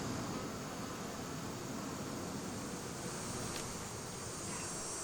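Honey bees buzzing around an open beehive being checked for nectar and winter stores, a dense, constant drone filling the air at moderate distance, unbroken and without voices.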